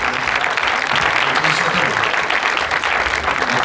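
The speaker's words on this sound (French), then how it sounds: "je vous demande d'applaudir le pâtissier quand même qui vous a fait un très très joli gâteau." An audience claps loudly and steadily for a pastry chef at a wedding celebration, a dense, continuous wash of applause that fills the whole stretch without pause.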